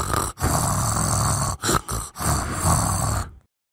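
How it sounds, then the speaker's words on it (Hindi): A woman snoring loudly in sleep, a few long rasping breaths separated by brief pauses, close up, with no talking. "कैसे खाए खाए खर्राटा मारती हैं।"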